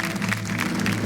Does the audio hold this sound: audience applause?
yes